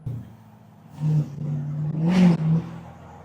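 A tuned and deleted 2024 Ford Powerstroke diesel truck revs up, its deep engine note swelling and dropping through a few quick surges as it pulls through the gears, loud and close with no talk.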